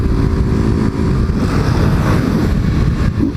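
Honda XRE 190 motorcycle fitted with a BMW 310 exhaust, a loud, close, rough engine roar with a throbbing low-frequency beat and some wind buffeting.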